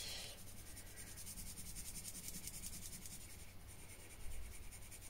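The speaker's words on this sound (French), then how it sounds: "Et je vais quand même le colorier." A Déco Time colored pencil colours paper with a soft, continuous scratchy rubbing, faint and close, with no voices.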